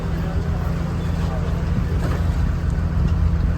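Steady low engine drone of a government passenger boat cruising the Kuttanad backwaters from Alappuzha to Nedumudi, continuous and fairly loud with wind and water wash over it and faint voices aboard.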